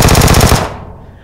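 Rapid automatic gunfire in the video game PUBG on an iPad, a loud close burst of repeated shots that cuts off abruptly and then fades.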